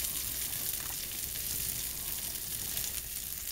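Beef and broccoli sizzle and fry steadily in a hot pan, florets and stalk pieces together, a continuous close crackle with faint stirring and no talk.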